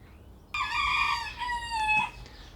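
One rooster lets out a loud, clear crow lasting about a second and a half, then falls silent; no other sounds around it.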